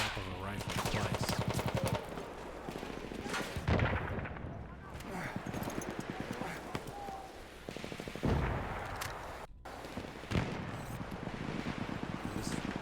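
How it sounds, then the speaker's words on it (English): Dense video-game gunfire rattles nonstop in a battle scene, including rifle shots among heavy rapid bursts and booms, loud and layered, with voices faintly mixed underneath. "Heard the snap of a rifle twice"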